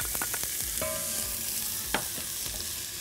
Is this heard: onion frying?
yes